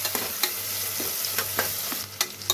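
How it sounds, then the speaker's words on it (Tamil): Chopped onions fry in oil for a chicken biryani while a spoon stirs them, producing a constant close sizzle broken by several sharp scrapes and taps against the pan, with no voices. "சாரி, வெங்காயம் நல்லா வதங்கட்டும்"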